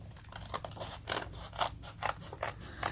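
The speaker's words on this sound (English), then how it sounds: "Now you can either take your craft knife or your scissors," Scissors snip through material in quick small cuts for a circular shape while bookbinding a faux leather journal: about eight crisp, close snips in an uneven rhythm, quiet and alone.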